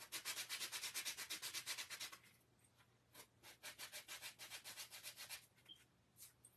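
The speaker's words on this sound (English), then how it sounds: "I'm trying to sand it back to the raw wood" Wood is sanded back to raw bare wood by hand, quick rhythmic back-and-forth strokes close up, a fast steady run, a pause, then a second series of strokes.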